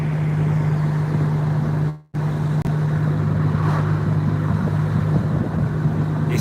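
Steady interior drone of a Honda Integra Type R with a K20A engine while riding as a passenger, a constant low hum with road noise and one brief dropout.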